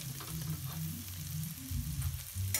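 Frikadellen meatballs frying in a pan, a continuous close crackling sizzle with fat spitting steadily, loud and unbroken for a couple of seconds.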